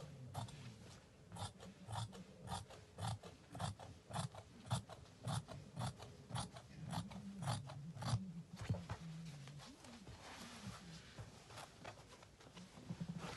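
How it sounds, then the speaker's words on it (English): Scissors trimming excess fabric for a circle skirt, a faint series of regular crisp snips with soft rustling of cloth, steady then fading into quieter handling. "I'm just trimming it off at one side because it's too much excess."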